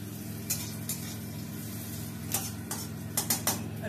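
Onions frying in a pan for a potato mash dish in a home kitchen, a steady low sizzle running throughout with a few sharp stirring and utensil clinks against the pan.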